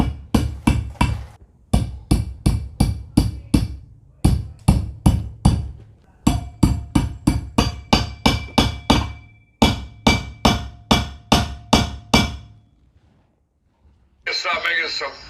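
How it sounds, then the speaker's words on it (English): A mini sledgehammer strikes to drive a part into a Golds Gym weight lifting bar in rapid, loud, metallic blows, fired off in bursts of about six to eight hits with short pauses between them. A voice is heard at the very end. "Alright, I have my sledgehammer here. And very carefully, just smash it in."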